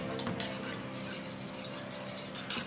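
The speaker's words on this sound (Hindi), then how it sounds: "इस तरीके से हम चलाते रहेंगे" Besan mixture for khandvi is stirred in a pan over heat, with soft scraping and occasional light metal clinks against a low steady hum, close and fairly quiet with no talking.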